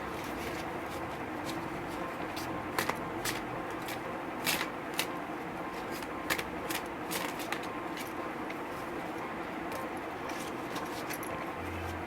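Tarot cards are shuffled by hand in a quiet indoor setting, with repeated soft riffling and flicking bursts and small snaps scattered across a low background hiss.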